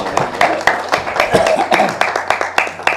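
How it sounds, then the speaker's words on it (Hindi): Audience clapping at a Bollywood launch event, scattered handclaps with sharp, uneven rhythm rising under a lively room and voices. "ताली बजाओ यार"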